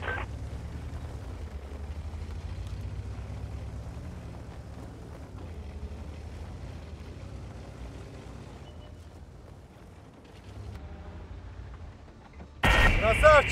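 A low tank engine rumble runs under voices, then a sudden loud tank cannon blast erupts near the end in a video game.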